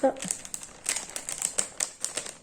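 A zip-lock plastic package from an online shopping haul is cut and pulled open: close, crisp crinkling and rustling with sharp clicky bursts that come in an uneven run of handling noises.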